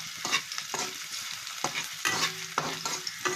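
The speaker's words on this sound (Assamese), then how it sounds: "তেল গৰম হৈ গ'ল এতিয়া মই ইয়াতে মিহিকৈ কাটি লোৱা পিয়াজ দিছো লগতে এটা জলকীয়াও দি দিছো" Finely chopped onion and a green chilli fry in hot oil, giving a steady sizzle broken by repeated scraping stirs of a spoon in the pan, close and moderately loud, with no voices.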